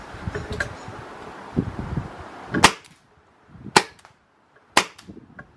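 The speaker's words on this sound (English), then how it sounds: "let's cut to the shooting video now" Paintball pistol from a baller kit firing three sharp, loud shots spaced about a second apart, preceded by some rustling and handling noise outdoors.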